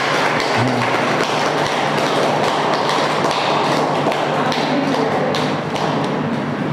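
Dense, continuous applause fills the whole stretch, steady and loud, with many hands clapping at once and a faint voice underneath.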